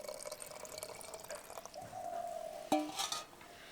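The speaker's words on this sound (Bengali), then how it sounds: "সেই বাটিটায় আমি ডাব জল দিয়ে ধুয়ে সেই জলটা আমি ডাবের মধ্যে দিয়ে দেব" Coconut water, first swirled through a bowl of spiced prawn marinade, trickles and splashes into an opened tender coconut, a quiet, close pouring sound ending in a few brighter drips.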